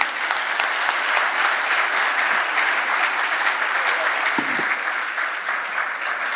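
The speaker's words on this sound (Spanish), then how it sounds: "Les agradecemos con este aplauso a los expositores." An audience at a federal dialogue forum on Argentina's productive model applauds the speakers, a sustained, even wash of many hands clapping that holds steady throughout.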